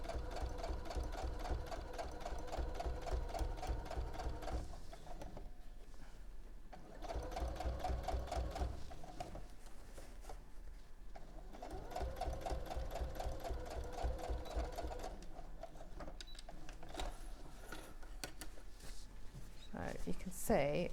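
A sewing machine runs in steady bursts, stitching through fabric and lining, its fast rhythmic needle clatter pausing briefly between runs while people talk over it.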